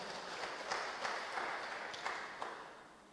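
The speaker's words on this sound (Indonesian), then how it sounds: "berikan tepuk tangan yang meriah buat Tuhan kita." Church congregation clapping in response to a preacher's call during a Christmas sermon, a steady, fairly faint wash of applause with a few sharper claps standing out, continuing throughout.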